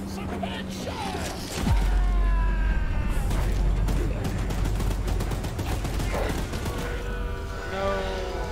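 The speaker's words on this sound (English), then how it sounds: "Get to the gun! Light him up! Don't let the gun overheat!" A mounted gun fires in rapid, sustained bursts at the monstrous train in Choo Choo Charles, loud and close, with mechanical clanks, a deep rumbling roar and a game voice shouting over the gunfire.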